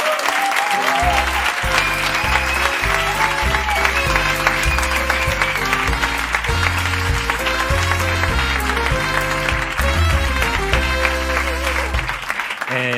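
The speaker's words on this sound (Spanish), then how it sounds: "Un aplauso para Quique Pérez" Applause for Quique Pérez on a parking-lot karaoke show: a steady, dense crowd clapping that runs the whole stretch over loud music with a pulsing bass line.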